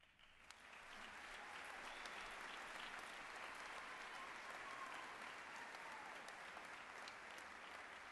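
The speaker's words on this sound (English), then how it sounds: "let's give another round of applause for our outstanding graduates" Sustained applause from a large audience at a journalism school commencement honoring graduating students, steady dense clapping filling the hall for about seven seconds after a brief quiet start.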